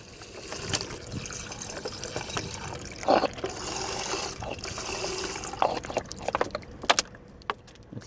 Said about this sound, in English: we'll be adding the water right now